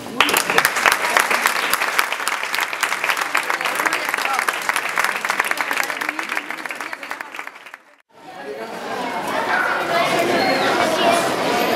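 A street audience on Calle Mayor in Caravaca claps at a public reading, loud, dense applause running for about eight seconds, a sudden brief drop, then a second swell of clapping with crowd chatter underneath.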